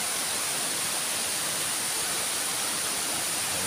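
Portabaga Falls rushes in a steady, broadband roar of falling water in an outdoor park, constant and fairly loud with no pauses or other sounds standing out.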